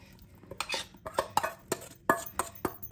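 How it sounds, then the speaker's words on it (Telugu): Vegetables with salt and pepper being tossed and mixed in a bowl, with a run of close clinks and scrapes of a utensil against the dish at an uneven rhythm and no talking. "ఆ వెజ్జీస్ అన్ని ఇందులో వేసుకుందాం"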